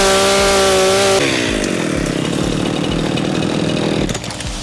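A chainsaw engine revs loudly, then bogs down as it bites into wood, cutting steadily before easing off near the end.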